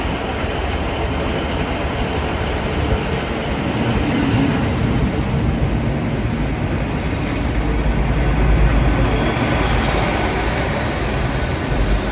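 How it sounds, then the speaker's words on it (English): A Great Western Railway train to London Paddington rumbles steadily at close range for the whole stretch, with wheels grinding and faint high squeals over a dense low roar. "Welcome aboard this Great Western Railway service to London Paddington."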